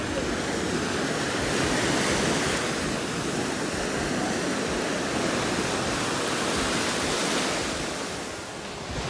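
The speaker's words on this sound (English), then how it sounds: "The surf is mild today, so we could go in." Steady, loud ocean surf washes continuously onto a beach in Tulum, Mexico, a dense roar of breaking waves with wind, fading slightly near the end.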